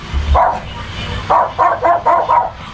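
A dog barks several times in a short series of sharp, close barks near a house's back area, with a low thump at the start and background noise between barks.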